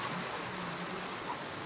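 Heavy monsoon rain near village houses in Konkan gives a continuous even wash of noise, fairly soft and with no one speaking.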